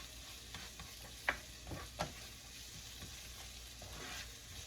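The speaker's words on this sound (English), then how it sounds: "When you cook your onions down, you want to cook them and let them get a little brown sear on them a bit." Onions and bacon fry in a pan for Southern fried cabbage, a steady quiet sizzle broken by a few sharp utensil clinks and stirring scrapes, with no voices.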